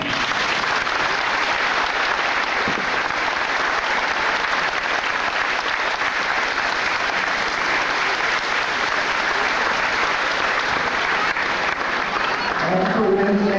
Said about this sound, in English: Let's give an round of applause